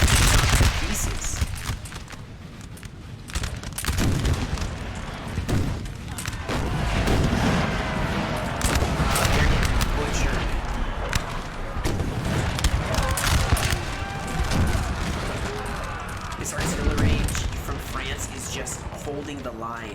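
Massed musket volleys and artillery fire crack and boom through a large Napoleonic battle in Napoleon: Total War, with constant layered gunfire and heavy blasts, a voice talking over much of it.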